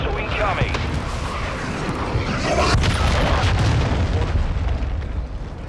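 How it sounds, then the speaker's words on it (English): A cruise missile strike lands during a Call of Duty: Modern Warfare II match on the Shipment map, heavy booming blasts and rolling rumble over several seconds mixed with game voice callouts. "Hostile cruise missile incoming."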